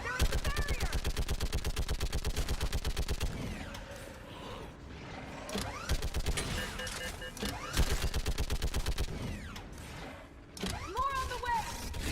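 Video game battle gunfire in Mass Effect 3, with rapid automatic bursts at the start followed by scattered shots, mechanical sounds and voices calling out over the fighting.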